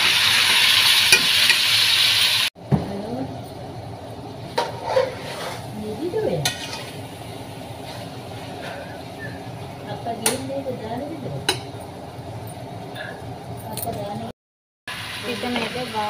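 Chicken pieces fry with onions in a pot, a soft sizzle under stirring and scraping, with occasional clinks of a spoon against the metal; a person talks over the cooking, and brief gaps break the sound.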